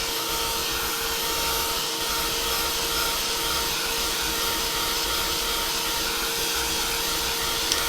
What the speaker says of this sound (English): I'm going to hit that with the heat gun again to make sure that that's dry.